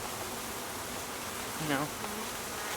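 Package bees shaken into a hive onto old comb give a steady, soft droning hum, with a brief louder buzzing swell near the end, close by and alone without talk.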